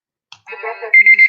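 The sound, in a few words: timer alarm ringing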